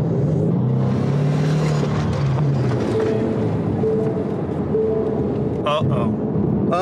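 Car engine revving hard as the driver floors it, a loud roaring rumble with wind noise, while someone talks over it throughout.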